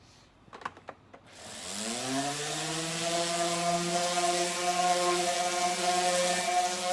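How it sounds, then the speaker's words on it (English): A few light clicks, then a power sander whirs up and runs steadily at close range on a wooden headboard, its motor pitch holding a constant drone. "So I'm gonna do some sanding"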